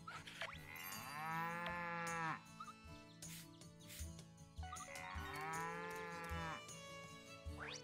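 A cow moos twice in the farming video game Story of Seasons: Pioneers of Olive Town, each call a long, loud, drawn-out bellow heard alone against soft game background sounds.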